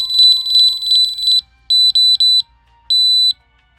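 Loud, shrill electronic alarm tones from a skydiving audible altimeter: a long pulsing beep, then three quick bursts and one more, with silence between.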